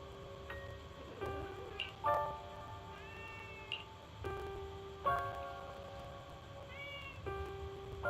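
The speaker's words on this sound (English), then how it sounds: "Oh, there's a cat over there." A cat meows several times at a moderate distance, with rising and falling tonal calls in an ordinary room, each separated by short pauses, over a low steady background hum.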